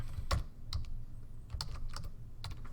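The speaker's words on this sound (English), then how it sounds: "you can highlight and start typing in" Keys clatter on a computer keyboard as someone types in short bursts of a few quick clicks, close and fairly soft, with no talk.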